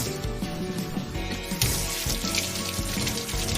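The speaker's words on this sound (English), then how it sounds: "Let's go wash our hands and get started on the meal prep." Water runs steadily from a kitchen tap into a sink while hands are rinsed under the stream, a continuous close splashing hiss with no talking.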